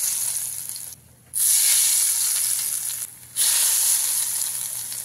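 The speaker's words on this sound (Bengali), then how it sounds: "গরম তেলটা নিয়ে আমের মধ্যে দিয়ে দেবো।" Hot oil poured over grated raw mango for pickle, a loud bright sizzle in two long bursts separated by brief near-silent pauses.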